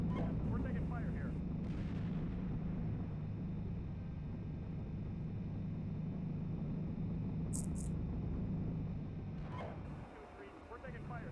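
Incoming fire in the tank simulator Steel Beasts Pro PE, heavy booming artillery and gunfire rumbling continuously and loudly, with radio-style voices talking over it.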